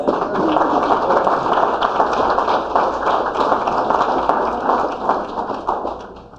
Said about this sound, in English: Let's say applause for the artists.